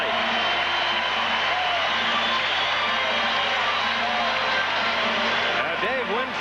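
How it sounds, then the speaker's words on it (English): A crowd at the 1978 MLB All-Star Game stadium roars steadily as Winfield comes to the plate, a broad, continuous wash of cheering and hubbub heard from within the stands, with some faint voices woven through. "Just listen to the crowd as Winfield comes to the plate."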